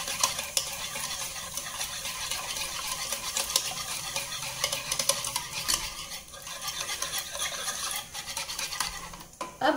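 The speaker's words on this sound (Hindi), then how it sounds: "डाल के अच्छे से मिक्स कर लीजिए।" Salt, sugar and black salt are stirred into cooked rice with a spoon, giving continuous close scraping and rustling against the bowl, with a clink near the end and no talk.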